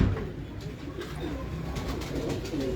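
Pigeons coo softly in low, rolling calls against a faint background hum, with no one speaking.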